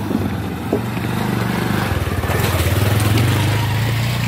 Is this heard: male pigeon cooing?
no